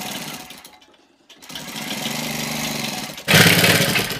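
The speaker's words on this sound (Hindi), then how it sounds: "यहाँ से हम नीचे से एक पैर की सिलाई लगाते हुए लाएंगे" A sewing machine stitching a placket strip on an old kurta, a steady close whirring run that stops briefly, then starts again and grows louder toward the end.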